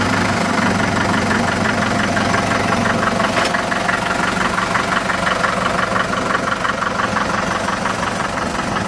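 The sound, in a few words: Farmall Super MTA diesel tractor engine idling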